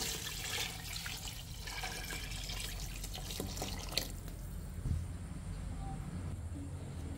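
Water is poured into a cooking pot as broth for sopas, a Filipino pasta milk soup, producing a steady splashing pour that then settles into quieter bubbling and simmering.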